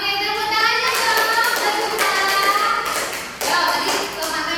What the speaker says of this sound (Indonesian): Oke, tepuk tangannya dong.